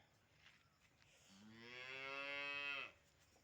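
A cow on a farm lets out a single drawn-out moo that swells louder and then cuts off, heard at a distance in an otherwise quiet outdoor setting.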